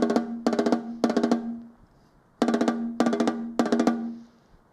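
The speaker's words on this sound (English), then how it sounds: "I'm playing little 5-stroke rolls, which would be like this if I played them open." Snare drum playing short open five-stroke rolls, with crisp separate strokes in two groups of three quick bursts, each burst a rapid cluster of hits with a ringing tone, close and loud, no talking.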